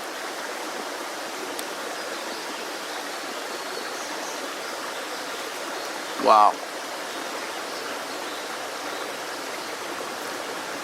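River water flows in a steady, close, unbroken rush, with one brief spoken exclamation partway through.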